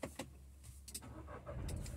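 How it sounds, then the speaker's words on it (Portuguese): A new Volkswagen Polo starts up: a few clicks and clunks, then the engine catches and settles into a low, close idle rumble. "liguei o carro aqui"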